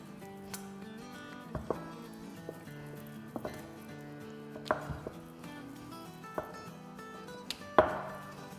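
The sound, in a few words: rolling out samosa dough with rolling pin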